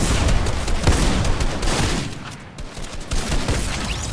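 Rapid, dense Fortnite gunfire from a competitive trio match cracks out in continuous bursts, loud and close, with brief gaps between volleys.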